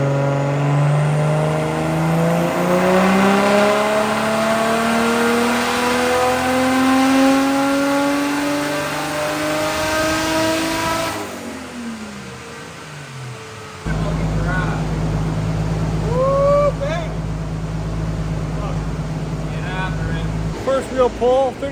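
A turbocharged Toyota 1JZ-GTE VVTi with a Pulsar turbo upgrade screams through a dyno pull on a 30% wastegate duty cycle, rising in pitch for about eleven seconds before lifting off and settling to a loud, rough idle with blow-off chatter.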